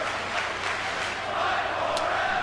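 Crowd noise in the WWE 2K25 wrestling video game, a steady roar of cheering with faint rhythmic chanting swells, continuous at moderate volume.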